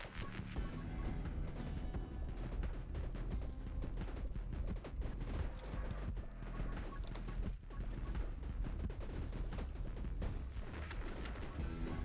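A gun in the 20 Minutes Till Dawn video game fires rapidly and continuously, a dense stream of sharp cracks and impacts packed over a busy game soundtrack with no talking.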